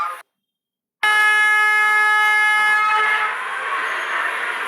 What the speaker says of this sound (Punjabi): ਬਹੁਤ ਲੰਮੀ ਟ੍ਰੇਨ ਬੜੀ ਲੰਮੀ ਹੈ